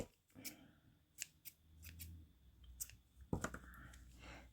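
Small scissors snip through crochet yarn in a handful of quiet, sharp clicks and cuts, close by in an otherwise hushed room with no speech.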